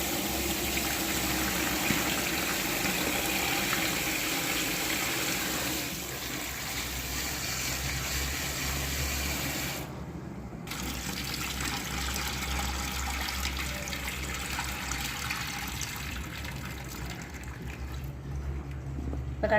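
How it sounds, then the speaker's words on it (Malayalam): Vegetable pieces are washed under a tap in a home kitchen, water gushing and splashing continuously and close, its tone shifting as the pieces are moved under the stream. "കഷ്ണങ്ങളൊക്കെ നമുക്ക് വെള്ളത്തിൽ കഴുകിയെടുക്കാം"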